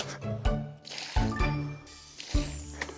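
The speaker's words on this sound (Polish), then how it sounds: "Polałem ją jeszcze wodą, żeby takie błoto się na niej zrobiło." Water is poured over a chest dug out of an old well, giving a few wet, muddy squishes and drips in separate bursts, close by and fairly quiet.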